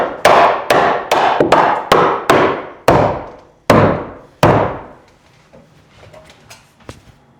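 Someone strikes a stuck part hard about nine times in quick succession, each sharp, close bang ringing out briefly before the next, followed by quieter knocks and handling noises.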